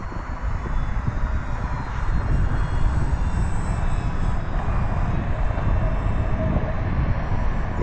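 An E-flite Commander mPd 1.4 m radio-controlled plane comes in to land, its electric motor giving a steady, loud, rough drone that holds fairly close throughout, with no voices.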